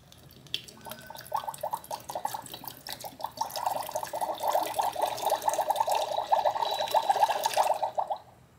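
Water pours steadily into a toy cauldron in a bubbly, gurgling stream, starting softly and growing louder and fuller before stopping abruptly near the end.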